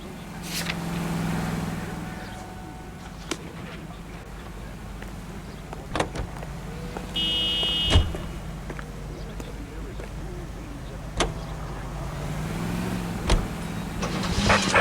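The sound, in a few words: car driving in L.A. Noire video game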